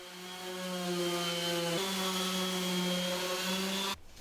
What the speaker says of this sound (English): Then I can just give it all a good sand down.